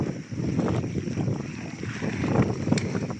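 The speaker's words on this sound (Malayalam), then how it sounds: "കാറ്റടിക്കുന്നുണ്ട്" Steady wind buffets the microphone on an exposed hill fort at Kavaledurga during a rainy-season trek, a continuous low rushing roar with gusty swells and no speech.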